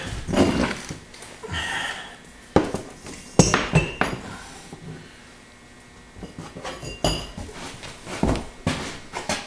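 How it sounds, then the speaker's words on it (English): Ceramic bisque-fired pots being shifted by hand at a kiln site, with clinks, knocks and scrapes of pottery against hard surfaces coming in irregular bursts separated by quieter stretches. "just going to move these pots out of the way just for a sec"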